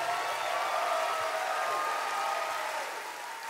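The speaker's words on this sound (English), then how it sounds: "Please give him a round of applause." At the Miss America Pageant 2024, a large audience claps for a piano performer, a broad continuous wash of applause heard from some distance that eases slightly toward the end.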